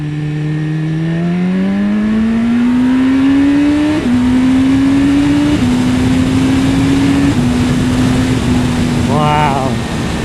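A 2015 BMW S1000RR superbike with a quick shifter accelerates hard through the gears, its engine note climbing and stepping with each upshift under heavy wind rush, with a brief voice near the end.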